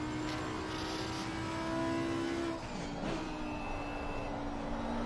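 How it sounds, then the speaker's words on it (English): A GT3 racing car engine drones steadily with tonal whines shifting in pitch, and a brief tyre-scrub sound midway as the car slides at Zolder in a PS5 racing game, no voices. "I hear the car sliding"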